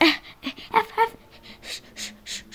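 A pet dog panting close by indoors at home, a quick run of rhythmic breathy puffs with a few louder bursts early on, then softer, steadier panting.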